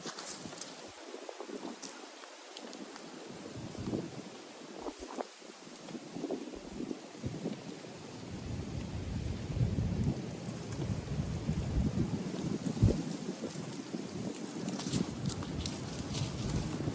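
Strong headwind gusting across an open disc golf course, a broad roaring rush that swells and buffets the microphone steadily and grows louder toward the end, with no other clear sounds.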